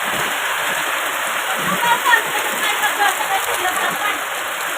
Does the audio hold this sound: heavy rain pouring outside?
yes